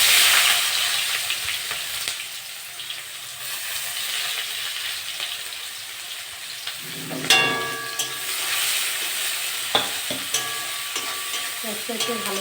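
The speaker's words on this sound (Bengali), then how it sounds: "পেঁয়াজটা লাল লাল করে ভাজা হয়ে গেছে" Onion frying in hot oil with cumin seeds and a dried red chilli for a catla fish and potato curry makes a continuous close sizzle. Stirring scrapes and a metallic clank rise partway through.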